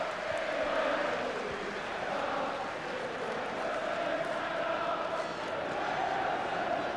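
A massive football crowd at Old Trafford roars for an FA Cup match between Manchester United and Fulham, a dense, continuous wash of voices and chanting that swells and fades slightly throughout.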